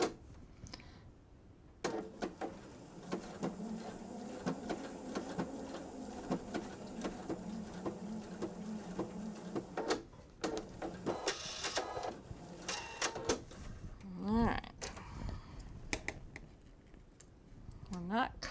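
A sewing machine stitches a fabric bench pillow in quick whirring bursts, stopping and starting between pauses, with a person talking over parts of it.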